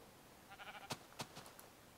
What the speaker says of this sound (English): let's go down and let's collect some wool off these sheep